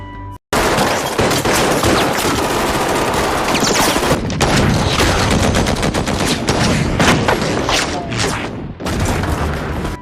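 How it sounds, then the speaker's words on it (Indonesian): Dense, loud gunfire from a White House shootout in the film Olympus Has Fallen, with rapid bursts, heavy booms and constant rattling that fill almost the whole stretch. "baku tembak pun di sini terjadi lagi"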